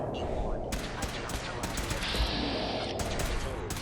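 Lever action rifle gunfire in Fallout 4, several sharp separate shots in quick bursts over mechanical clatter and game noise, fairly close.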